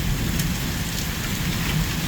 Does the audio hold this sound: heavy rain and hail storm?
yes